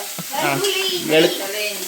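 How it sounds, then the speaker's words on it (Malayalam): Onions, tomatoes, garlic, ginger and green chili fry in a pan for egg curry, giving a steady close sizzle with soft stirring throughout. "വെളുത്തുള്ളി ഇഞ്ചി പച്ചമുളക് എല്ലാം ഇട്ടാണ് മുട്ടക്കറി ഉണ്ടാക്കുന്നത് എല്ലാം ചട്ടിയിലോട്ട് ഇടട്ടുണ്ട്"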